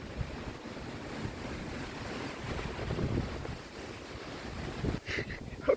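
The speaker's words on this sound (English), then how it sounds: "Wow, there was a lot of wind." Outdoor wind buffeting a microphone, a rough, uneven low rumble that surges and swells throughout, with a few sharper gusts and clattering bumps near the end and no talking.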